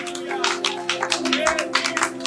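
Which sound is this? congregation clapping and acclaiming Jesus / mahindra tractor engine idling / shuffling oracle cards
congregation clapping and acclaiming Jesus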